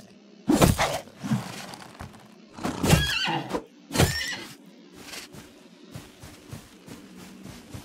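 A horse in the Old West video game Outlaws of the Old West gives several loud, close whinnies and snorts in separate bursts, mixed with hoof clops and thuds.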